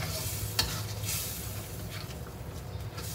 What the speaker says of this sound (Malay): Goreng dulu hati lembu tu.